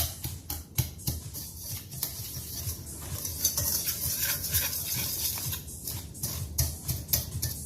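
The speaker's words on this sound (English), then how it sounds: "I am just going to whisk these dry ingredients together, making sure that I break up the brown sugar" A whisk beating dry ingredients with brown sugar in a bowl, giving a steady run of quick scratchy strokes and light metallic ticks against the sides, close and moderately quiet with no talking.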